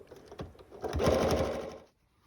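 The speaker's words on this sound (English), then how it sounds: "when you sew it, sew up to the seam or up to the pin" A sewing machine stitches a foundation paper-pieced quilt block in a short, quiet run of rapid needle pulses that builds up, holds steady for under a second, then stops.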